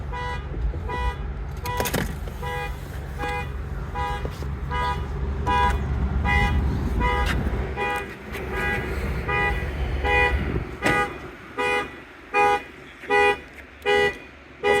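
At a Ford dealership lot beside a 2024 Ford Mustang EcoBoost, a car horn sounds in the background, first as a long blaring tone over traffic rumble, then as a series of separate honks near the end.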